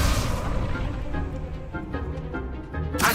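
A fire spell blast cast at a practice dummy in the Hogwarts Legacy video game, a sustained whooshing roar of flame that holds steady, then fades and flares again at the end.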